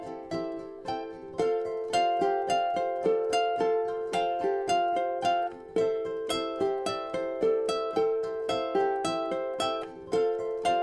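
A ukulele is fingerpicked along with a recording, giving a steady stream of quick plucked notes in a flowing, evenly rhythmic pattern, bright and close, with no voice.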